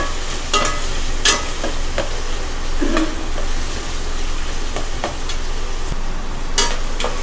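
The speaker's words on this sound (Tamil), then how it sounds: "ஆனியனும் கேரட்டை ஆட் பண்ணிவிட்டு ஹை ஃப்ளேமில் 1 மினிட் போல் நம்மளுக்கு இருக்கட்டும்" Onion and carrot fry over a high flame, a steady broad sizzle running throughout with occasional stirring scrapes and clicks, moderately close and without speech.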